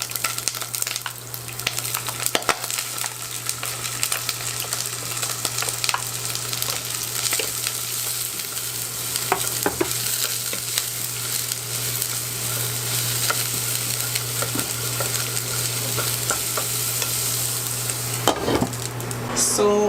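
Chopped garlic sizzles steadily in hot canola oil in a pan for shrimp, a loud continuous frying hiss with occasional stirring scrapes and a low steady hum.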